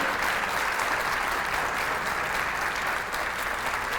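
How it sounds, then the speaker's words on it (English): Steady, dense applause from a crowd at a kindergarten graduation ceremony, clapping for retiring staff members, loud and continuous throughout without a break. "let's just give all of those staff members a big round of applause"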